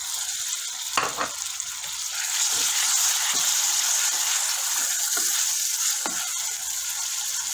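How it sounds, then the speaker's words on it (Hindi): Tomatoes hit softened onions frying in a pan for a maghaz masala, giving a loud, steady sizzle that swells and holds throughout, with a few sharp clicks of a spoon against the pan early on and near the end. "अब इसमें ऐड कर देंगे टमाटर।"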